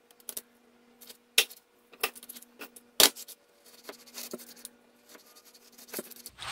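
A knife slicing beef for beef and broccoli on a cutting board, giving sharp, irregular close-up cuts and taps with quiet gaps between strokes.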